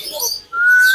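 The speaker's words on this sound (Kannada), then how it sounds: "ನೋಡಿ ಅದರ ಚಿಲಿ ಪಿಲಿ ಸದ್ದು ಎಷ್ಟು ಹಿಂಪಾಗಿದೆ ಅಲ್ವಾ" Parrots chirping at the Mysore zoo: a short twittering burst, a brief pause, then a clear rising whistle-like call, close and fairly loud with no talk over it.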